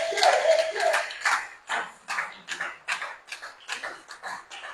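A church congregation claps and acclaims together during a French-language service, a dense run of rhythmic handclaps and cheering voices that thins into scattered, irregular claps over a few seconds.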